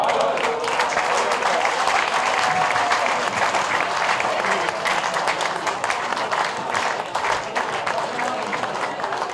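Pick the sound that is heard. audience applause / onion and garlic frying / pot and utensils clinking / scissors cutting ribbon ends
audience applause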